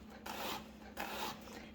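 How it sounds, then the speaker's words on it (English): A kitchen knife being sharpened, two or three quick rasping strokes of steel along a sharpener, close and fairly quiet, with no voices. "I always sharpen my knife before I go to work here."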